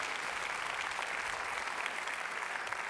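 A church congregation claps together in a steady, even burst of applause that fills the short stretch, loud and close, with no single voice standing out.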